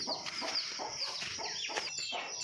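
A mother hen on a farm clucks among her chicks, with their high peeping chirps filling the background; the sounds are close, continuous and steady throughout, with no voices.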